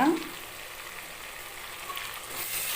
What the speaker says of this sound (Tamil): இஞ்சி மூடி பேஸ்ட் எல்லாத்தையும் சேர்த்து நல்லா வதக்கிக்கலாம்